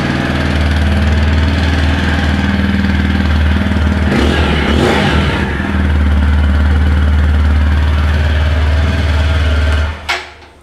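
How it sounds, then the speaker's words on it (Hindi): TVS Apache RTR 160 4V Special Edition motorcycle idling loudly up close, its single-cylinder exhaust thumping steadily, with a brief rev midway and the engine cutting off near the end. "इसका एग्जॉस्ट नोट भी एक बार सुन लेते हैं। इस तरह से ये स्टार्ट होती है, क्विक स्टार्ट है।"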